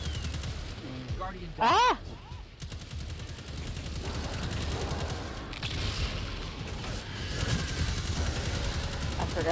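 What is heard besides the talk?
gunfire from the player's gun in the Destiny 2 video game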